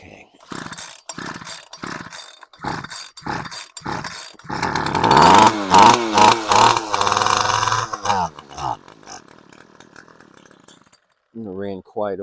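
A small Chinese-made two-stroke engine with a Zip Start Plus pull starter is yanked several times in rhythmic bursts, then catches and runs loud and close for a few seconds, revving before cutting out, followed by a brief voice.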